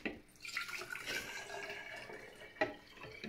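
Water poured into a jar for a rain-cloud science experiment, a close, quiet splashing and trickling stream with a few uneven gurgles and a brief sharper splash near the end.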